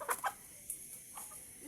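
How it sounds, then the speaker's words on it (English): Village chickens in Africa cluck in a few short close bursts near an outdoor cooking spot, then quieter background noise. "the chicken are also enjoying your meal with you"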